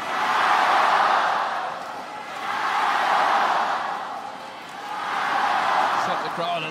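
A badminton crowd at the Asian Badminton Championship 2024 finals roars in three loud, swelling waves of cheering after a shot, rising and falling in a long rhythmic chant-like pattern.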